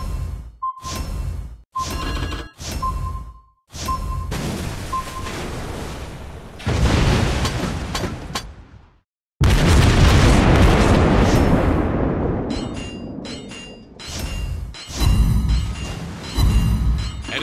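Heavy booming torpedo explosions and naval gunfire in the mobile warship game World of Warships Blitz, aboard a Soviet battleship, with repeated loud blasts and long rumbling roars in a dense, chaotic sequence.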